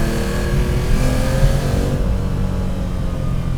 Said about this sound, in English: that engine now, it's on song and running beautifully, is pulling like a train